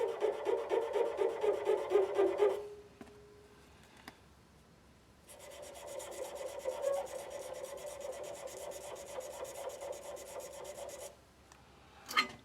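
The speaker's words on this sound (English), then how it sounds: "So let's just go ahead and get it sanded out." Sandpaper rubbing against a wooden shaving brush handle, a steady scratchy rasp in two stretches, a short one and then a longer one, separated by a quiet pause, close and alone.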